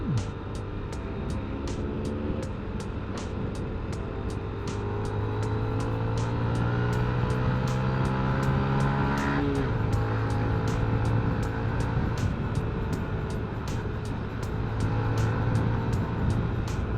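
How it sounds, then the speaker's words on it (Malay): Busy midday traffic with many cars passing on a Malaysian road, a continuous engine and road roar with one vehicle's pitch sweeping up and then dropping near the middle, under a steady ticking from a nearby motorcycle. "Kereta banyak weh sini."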